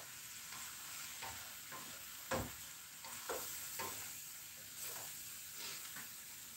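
Food sizzling and frying in a home kitchen, a steady hiss running throughout with scattered soft clatters and stirring knocks, moderately quiet and with no talking.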